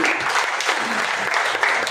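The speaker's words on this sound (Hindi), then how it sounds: "जितेंद्र कुमार नूर के लिए जोरदार ताली बजाइए" An audience at a poetry and ghazal gathering applauds loudly for the poet Jitendra Kumar Noor, a dense, close burst of clapping that stays strong for the whole short stretch.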